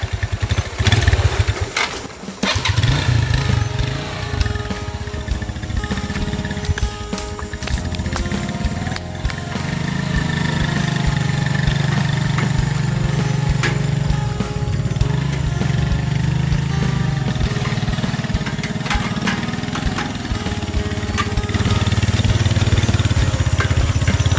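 A kulong-kulong, a motorcycle with a sidecar, labours uphill on a forest road, its engine revving hard and continuously close by, with the note shifting as the throttle changes.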